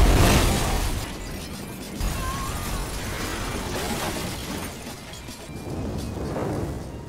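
A time bomb blows up in a film scene: a loud shattering blast at the start, then a long rumbling, crackling aftermath of debris and mechanical clatter, with no talk.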